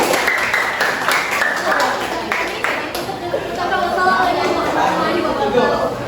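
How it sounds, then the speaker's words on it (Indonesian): A classroom audience applauds a student group after its presentation, with steady clapping mixed with chatter and voices throughout. "Tepuk tangan untuk kelompok kawan."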